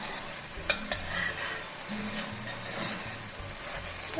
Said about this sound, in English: I'm going to add in about a tablespoon of minced garlic. And we'll just cook this again until the garlic is also translucent.